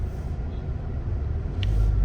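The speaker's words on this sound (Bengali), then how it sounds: "তো গাড়িগুলো সব আস্তে আস্তে চলছে" Slow-moving cars and buses crawl through a traffic jam on the Kalyani/Belgharia Expressway during roadworks, producing a close, steady low engine rumble that swells slightly near the end.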